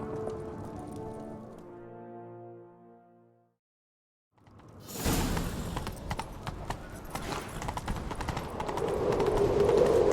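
Rapid hoofbeats of a galloping horse in the video game The Witcher 3 clatter close and loud amid a busy, rising rumble, following a brief sustained tone and a short silence.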